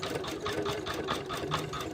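Usha 550e computer embroidery machine stitching mirror work onto a blouse, a steady, fast mechanical whir with rapid rhythmic needle pulses at close range and no voices.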